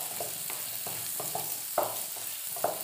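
Onions sautéing over a full flame for chilli pork, a steady sizzle with a few sharp stirring scrapes and clatters of the spatula against the pan, close and moderately loud, with no talking.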